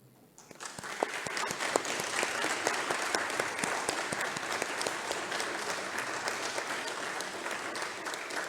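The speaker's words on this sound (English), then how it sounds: "Please let's give a round of applause to winners from Malawi" Sustained applause from an audience at a children's prayer and action day award ceremony, honoring winners from Malawi. It swells in after a quiet start, then stays full and steady with dense, close clapping throughout.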